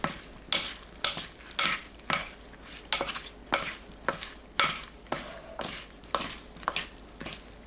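Blanched broccoli and button mushrooms are tossed with minced garlic, soup soy sauce, anchovy sauce, oligosaccharide syrup, scallion and red chili, with about a dozen regular, moist mixing strokes clicking against a bowl at a steady rhythm.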